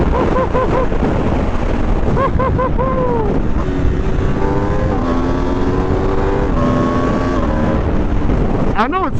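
A 2025 Aprilia RSV4 sport bike at speed: loud, steady engine howl rising through gear pulls with wind rush over the microphone, the pitch climbing and dropping between shifts.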